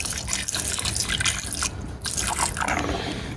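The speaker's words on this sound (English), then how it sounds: "we want to thoroughly rinse it over and over and over" Water runs and splashes over gold-plated corner pieces being rinsed again and again, a close, continuous gurgle with dripping and sloshing that briefly thins out midway.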